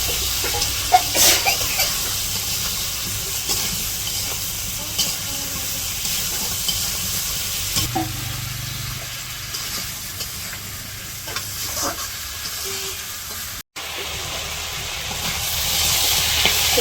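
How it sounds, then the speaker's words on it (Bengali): Vegetables hit hot oil with fried spices, bursting into a loud, steady sizzle with scraping stir strokes throughout, a brief pause near the end before the hiss resumes. "মশলা কষানো বুঝে আমি সবজি দিয়ে দিই"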